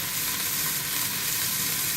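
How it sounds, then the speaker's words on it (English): Onions sizzle steadily in a hot pan while soup is being made, a continuous bright frying hiss with no talking over it. "I'm just going to get the onions going first"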